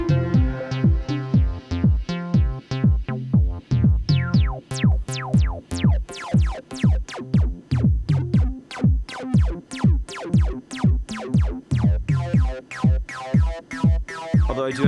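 Roland JU-06, TB-03 and JP-08 synthesizers play a driving sequence of short, punchy notes in a steady fast rhythm, bright plucked tones repeating loud and close with no voices.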